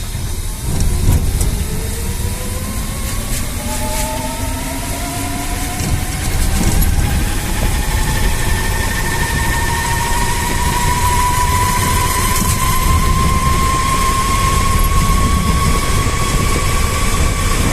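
A homemade electric microcar converted from a mobility vehicle accelerating hard, its motor whine rising steadily in pitch over a constant loud rumble of road and wind noise.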